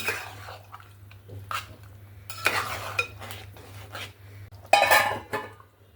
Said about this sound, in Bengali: আবারও ঢাকনাটা খুলে নেব